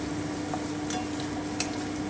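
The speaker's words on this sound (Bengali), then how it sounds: "আমি এবারে খুব ভালো করে একটু ভেজে নিচ্ছি" A soft, steady sizzle of kohlrabi frying in a pan, with a faint electrical hum beneath and a couple of light utensil taps.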